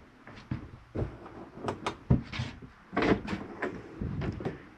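Cabinets and doors being shut one after another inside a 2024 Catalina Summit Series 164BHX travel trailer, a series of close, uneven knocks and thuds with short gaps between them.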